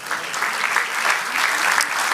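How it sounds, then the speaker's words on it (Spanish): A church congregation applauding during a sermon, sustained fairly loud clapping from many hands with a few voices mixed in underneath. "Denle aplauso al Señor."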